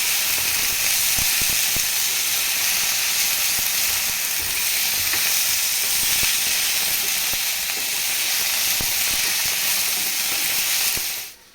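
Masala with coriander roasting in a pan for matar paneer, a constant loud sizzle with soft stirring scrapes, fading out at the very end.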